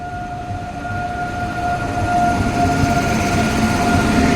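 Loud, steady rumble of the Kochuveli Express passenger train running from Dhola Junction, with a sustained tonal whine riding over the continuous rolling noise.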